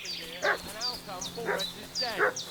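A dog barks and yelps repeatedly in Kingdom Come Deliverance II, close and fairly loud, with several sharp barks over a low ambient hum.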